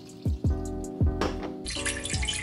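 Water pours for a drink, splashing as it fills a container in short bursts, close and clear with no talking.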